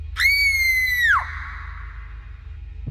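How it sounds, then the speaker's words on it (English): A single blood-curdling scream sound effect rises sharply, holds a shrill, piercing tone for about a second, then drops away abruptly into a low lingering hum, loud and close. "I heard a blood-curdling scream coming from the bathroom"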